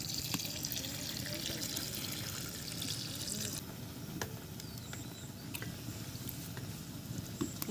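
Leaves rinsed under a running kitchen tap: a faint, steady hiss of flowing water with light splashing and trickling throughout.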